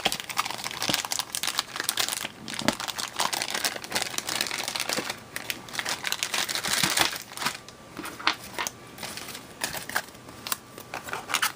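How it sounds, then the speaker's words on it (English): Hands tear open a sealed pack of board game cards, giving continuous close crinkling and crackling of wrapper plastic with bursts of card shuffling and rustling, steady over many seconds without speech. "let's see if I can crack open some cards"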